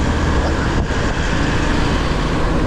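A truck travels on the road before dawn around 4 a.m., heard as a loud, dense, continuous roar of engine and road noise with a brief dip partway through.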